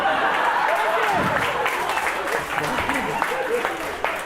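Audience at a stand-up comedy special claps in a dense, steady burst of applause, with a few scattered chuckles and voices mixed in.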